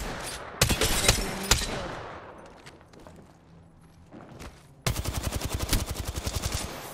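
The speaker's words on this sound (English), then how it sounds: "Getting shot." Video game gunfire: a few sharp shots over a noisy battle din, then a loud, rapid automatic burst firing steadily to the end.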